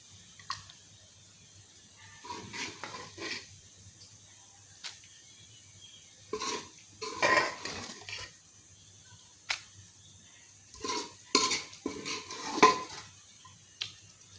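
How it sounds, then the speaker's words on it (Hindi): Cooked lonak lentil curry is scooped from a pot into another dish, heard as scattered close spoon clinks and scrapes with wet plops in irregular bursts over a quiet background. "अब ये पक चुका है, इसे हम एक बर्तन में निकाल लेंगे।"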